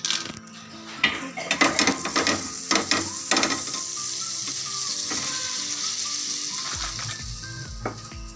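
Butter sizzling on a hot tawa while making chapati pizza, a steady soft frying hiss with scattered clinks and scraping of utensils, close and fairly quiet.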